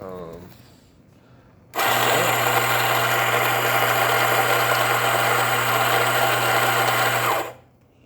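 A Pasquini Moka burr coffee grinder grinds beans to a fine grind, a loud steady motorized whir lasting several seconds and starting and stopping abruptly, with quiet sounds before it begins.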